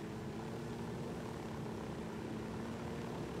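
A helicopter in the video game Ghost Recon Wildlands gives off a steady, dense rotor-and-engine drone that holds at an even loudness throughout, with no voices.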